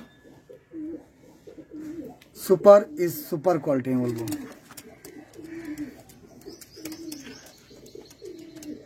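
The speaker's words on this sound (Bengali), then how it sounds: "এত সুন্দর নর পায়রা বন্ধুরা" Male Andhra pigeons coo in soft, repeated low rolling calls through most of the clip, close by and steady beneath someone talking over them.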